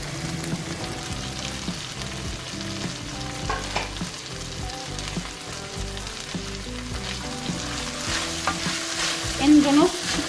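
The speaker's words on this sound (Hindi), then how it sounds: "इन दोनों को 1 से 2 मिनट के लिए फ्राई करेंगे।" Carrots and capsicum stir-fry in a pan for Indian-style Hakka chicken chow mein, giving a loud, steady sizzle with continuous scraping and tossing of the spatula close by.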